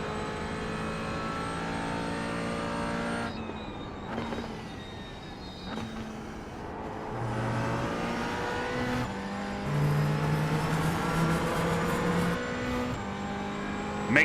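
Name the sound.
McLaren GT4 race car driving at Watkins Glen, iRacing video game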